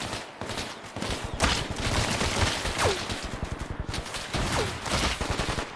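Gunfire in Bellum: rapid, dense bursts of shots and machine-gun fire rattle continuously at close range, with a couple of whistling ricochet streaks cutting through.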